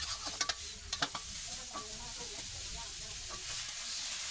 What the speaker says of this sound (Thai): ใส่ผักของเราลงไปผัดได้เลยครับ